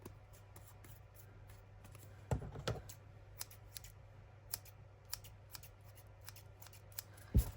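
Small scissors snip threads on a junk journal made from a cheque book, several crisp quiet clicks spaced irregularly with a couple of louder snips, close up against a faint electrical hum.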